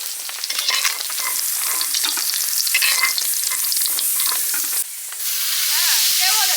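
Mustard oil sizzles loudly in a pan while egg curry is cooked, with a continuous crackling hiss and repeated stirring scrapes close by, briefly dipping before resuming.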